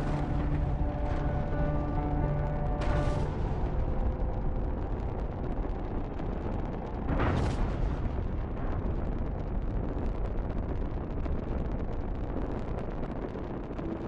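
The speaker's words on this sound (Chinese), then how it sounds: "但火箭在起飞3秒钟后就发生了爆炸。" A US Navy rocket carrying an artificial satellite explodes seconds after liftoff, a loud, sustained roaring rumble with two sharp blasts swelling through it, heard alone without speech.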